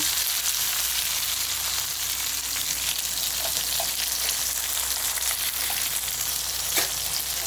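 Onion, curry leaves and green chillies frying in oil, a steady close sizzle that runs evenly throughout, with a few faint clicks of a spoon and no talk.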